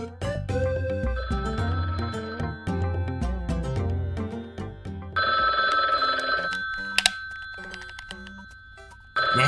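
Telephone ringing in a comic dub, a repeated bell-like ring heard over a busy musical background at moderate loudness.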